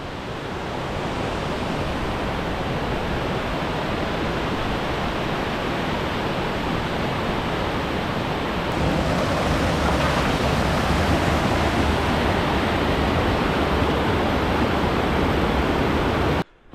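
A waterfall near the Ring of Steall hike in Scotland rushes loudly and close, a continuous broadband roar that swells slightly partway through and cuts off at the very end.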